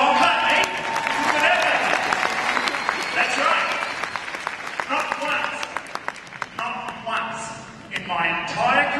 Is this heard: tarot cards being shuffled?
no